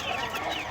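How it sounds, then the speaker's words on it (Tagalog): Young chicks clucking and peeping in a brief, continuous burst, close and moderately loud against a noisy background. "At ito naman yung pinakamaliliksing mga sisiyo ang lalabas."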